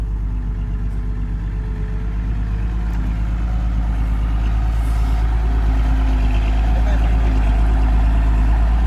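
A six-wheel truck being driven, a heavy steady low engine drone and rumble heard close from the cab, building slightly louder over the stretch, with people talking faintly underneath.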